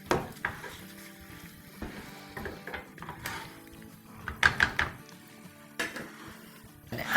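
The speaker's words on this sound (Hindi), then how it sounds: "मिला लेते हैं अच्छे से ताकि खुशबुएं अच्छी से मिल जाएं" Kabab 65 is stirred and mixed in a pan, giving a quiet sizzle under irregular scrapes and clanks of a spoon on metal. The sounds come close and intermittent, spread over several seconds.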